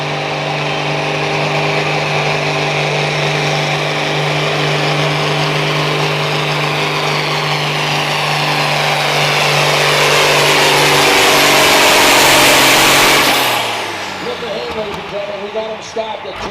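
A pulling tractor at an evening tractor pull in Melbourne, Ontario, its engine roaring loud and sustained, the tone rising as it strains down the track, then cutting off abruptly near the end, with an announcer talking over it.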